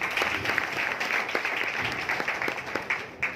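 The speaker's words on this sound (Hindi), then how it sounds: "शमशेर जी के लिए एक बार जोरदार तालियां" Clapping for Shamsher ji at a gathering in Hansi, Haryana, a moderate wash of hands that is steady and slightly distant, with a few sharper claps standing out.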